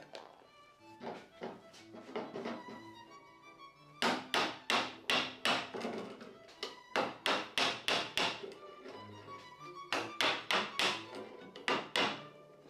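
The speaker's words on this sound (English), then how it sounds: "and a hammer." A hammer taps during door restoration, striking in quick regular runs of sharp knocks, close and fairly loud, with short pauses between the bursts.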